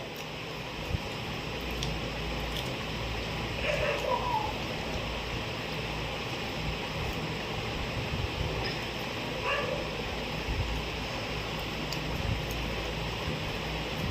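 Dogs bark faintly and far off, just two or three brief yips spread across a steady hiss of background noise, with no talking.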